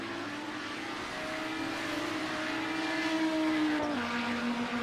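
Race cars at close to 280 km/h in the Aussie 1000 endurance round scream past, a steady high engine note bending downward as they pass, loud and sustained with no talk.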